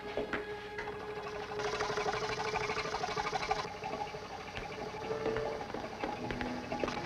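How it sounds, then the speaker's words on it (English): An exhaust pump on a pressurised bell jar apparatus runs with a steady, rapid mechanical chatter and whir, fairly faint and continuous, with no voices over it. "Start the exhaust pump."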